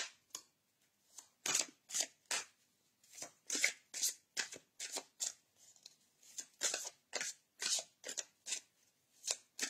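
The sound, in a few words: shuffling cards for a card reading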